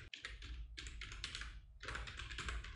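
Computer keyboard keys being pressed during After Effects editing, bursts of rapid, close clicking in three quick clusters separated by short pauses, with no talking.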